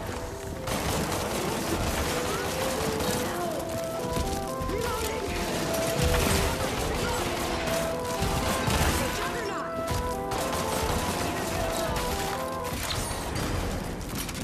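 Gunfire rings out in the VR shooter After the Fall, with dense, repeated shots and crashing impacts layered over a constant loud game soundscape, and a player speaks briefly.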